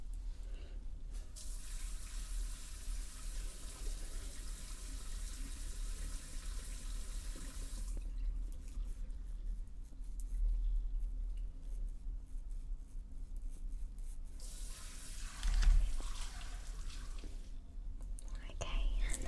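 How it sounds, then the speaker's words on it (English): Tap water streams steadily as hair is rinsed at a sink, a close, soft hiss that stops and starts in long stretches with quiet gaps, with low whispered speech in between. "and now I'm going to just rinse that out."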